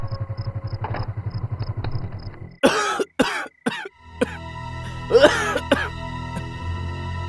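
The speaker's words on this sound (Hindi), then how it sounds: "तुम्हें खांसी है ना?" A woman coughs several times in a sharp, close burst, with a cough and throat sound afterwards. A rhythmic idling engine chugs in the background before and after the coughs.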